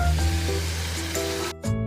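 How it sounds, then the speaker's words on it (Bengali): Prawns fry in a pan with a brief, steady close-up sizzle that cuts off abruptly near the end. "আর এখানে চিংড়িটা ভাজা হোক"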